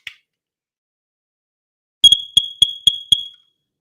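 Smoke detector alarm sounding while its test button is held, a faint click then five loud, piercing high-pitched chirps in a quick regular series, close and alone in silence.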